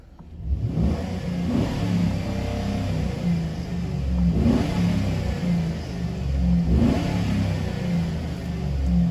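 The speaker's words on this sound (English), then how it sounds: "Gonna rev it a couple times for y'all." A car engine running after an AFM delete revs several times in a rhythmic pattern, loud and close, settling back to a steady rumbling idle between each rev.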